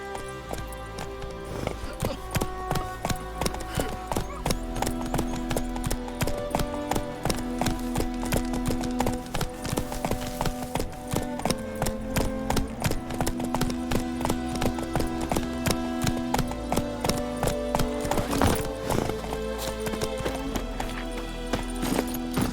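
In The Witcher 3, a ridden horse's hooves clip-clop in a fast, regular rhythm that carries on the whole time. Game music plays under the hooves, and a voice speaks now and then.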